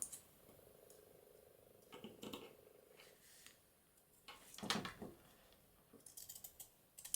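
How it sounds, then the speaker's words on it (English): Pinking shears snip through paper tag tabs at a craft table, giving a few close, crisp cutting clicks separated by pauses and soft handling sounds, fairly quiet overall. "I want to cut them with pinking shears."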